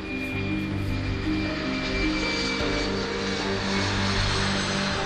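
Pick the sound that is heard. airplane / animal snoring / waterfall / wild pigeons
airplane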